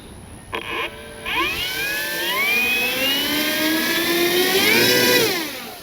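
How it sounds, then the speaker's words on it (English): The electric motor of a P-47 Thunderbolt RC model plane winds up from idle into a smooth, rising whine that holds steady close by, then eases off at the end, with wind in the background. "And then listen to this motor now."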